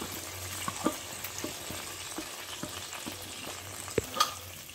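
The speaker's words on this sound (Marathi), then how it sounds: "आता आपण त्याच्यामध्ये ही जी भगर आपण भिजवून घेतली होती ती टाकायची।" Soaked barnyard millet goes into boiling water and is stirred, producing a soft, continuous bubbling hiss. Faint scraping strokes come at a roughly regular pace with an occasional sharper knock, and no one speaks.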